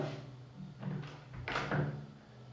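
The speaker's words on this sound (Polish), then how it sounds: "zamknąłem drzwi" A door is closed indoors at home. A few soft, muffled thumps and a brief knock sound faint and close in a quiet room.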